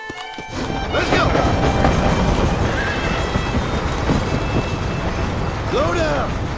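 A horse in the Western video game Red Dead Redemption gallops hard. A continuous rumbling hoofbeat stays near and loud throughout, with a short, high whinny-like cry toward the end.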